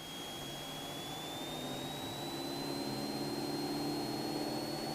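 A small training airplane's engine powers up in flight, a continuous droning hum with a whining tone that climbs slightly in pitch as the engine gains power, heard steadily from inside the cabin.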